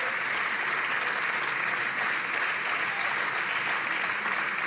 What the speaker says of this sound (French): timide les applaudissements de Marine Le Pen